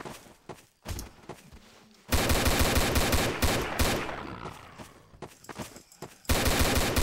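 Bursts of rapid video game gunfire crackle in rough volleys, with quieter gaps of shuffling between them, fairly close and loud.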